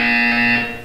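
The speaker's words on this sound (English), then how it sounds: "You will hear a buzzer." A buzzer sounds in the Portal 2 video game, a single loud, steady electronic tone held for under a second before fading slightly at the end.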